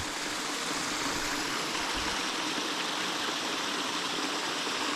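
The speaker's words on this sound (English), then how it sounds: "here's another little water runoff from the rainfall" Steady rushing flow of rainwater runoff from rainfall on a ridge, a continuous broadband wash with no voices, close and fairly loud throughout.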